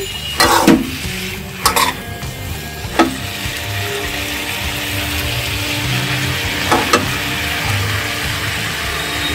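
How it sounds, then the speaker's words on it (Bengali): Bitter gourd (karela) frying in a pan with chilli and onion, giving a steady loud sizzle throughout, broken by a few sharp clinks and scrapes of a utensil against the pan. "আজকে করলা ভাজি করতেছি"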